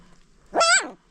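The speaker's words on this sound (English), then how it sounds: "Wow, the puppy." A puppy gives one short, close, rising-and-falling yelp or whimper that stands out alone against quiet surroundings.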